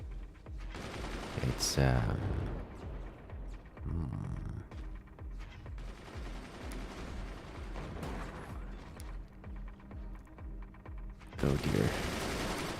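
Gunners and mortar launchers in the real-time strategy game Forts keep up a continuous rumble of booming shots and rapid bursts, with louder blasts near the start and end, while a person talks briefly over the combat.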